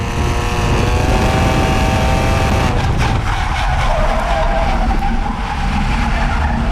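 A BMW E46 drifts around a dry, dusty road course, its tires squealing in a long, loud, continuous skid over a steady engine roar, with the pitch wavering as the slide carries on.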